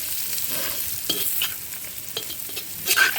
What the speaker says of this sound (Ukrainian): ми це все діло обсмажуємо не дуже сильно, а так, щоб воно стало м'якеньке